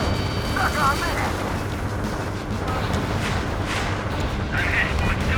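Continuous rumbling blasts and booms from a pipeline attack in the combat flight video game Ace Combat 7, a dense, loud, steady roar with radio chatter mixed in.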